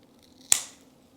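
A single quick snip of scissors cutting dead parts off a Christmas cactus during repotting, close and crisp in a quiet room.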